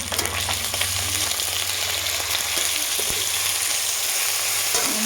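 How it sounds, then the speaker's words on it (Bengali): Ground cumin paste frying in a pan for a rohu fish curry with taro and tomato hisses loudly and steadily, close by, with a low hum underneath and occasional faint stirring clicks. "জিরা বাটা দিয়ে দিলাম 1 চামচ।"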